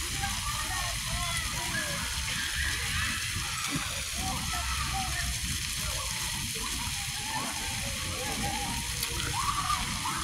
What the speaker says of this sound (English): Oh, there's the water.